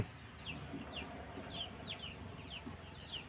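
Chickens cluck in short, repeated calls at a steady pace over faint background noise, with no voices.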